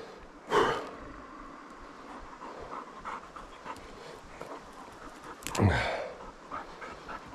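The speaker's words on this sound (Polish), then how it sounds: "Dobry pies." A dog pants during a stag hunt in the mountains, breathing steadily and close by with two sharper snorting gasps, and no talking.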